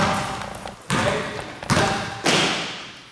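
A basketball bounces during a warm-up drill at a coaches clinic, with three sharp thuds spaced under a second apart, each fading into the gym's echo; no talk.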